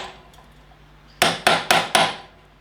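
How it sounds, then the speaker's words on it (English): Four sharp metallic hammer blows on a drift, folding a lock washer over a nut on a motorbike, spaced evenly in quick succession, close and loud after a quiet lead-in. "folds the lock washer over onto the nut with a hammer and drift"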